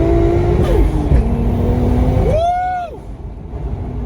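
A 520 hp Toyota JZX car accelerates hard on high boost, its engine droning and rising in pitch through gear changes, close and loud, then the revs fall away.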